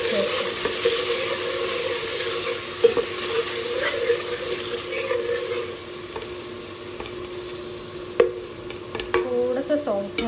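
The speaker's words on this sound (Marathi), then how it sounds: "स्लाइटली आपण स्टर करू, कारण की जास्ती नाही त्याला कुक करायचं।" Tomato and vegetables stirred in a frying pan, a steady broad sizzle with intermittent scraping spatula strokes, a few sharper clinks near the end, close and moderately loud with no talking.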